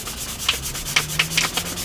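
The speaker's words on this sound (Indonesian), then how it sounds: "kita gunakan amplas 1000 gosok seperti ini teman-teman" Quick back-and-forth rasping of 1000-grit sandpaper rubbed against a squeegee edge, close up, in short repeated strokes.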